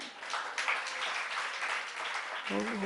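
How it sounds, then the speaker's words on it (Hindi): A crowd at a religious discourse by a Jain monk claps steadily, with dense applause that fades slightly before a voice begins at the end. "ओ, ताली बजा रहे हो?"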